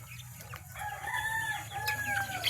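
Chickens and a rooster at evening feeding time give faint crowing and clucking calls over a steady low hum, with no talk.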